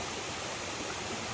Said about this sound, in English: It's kind of a waterfall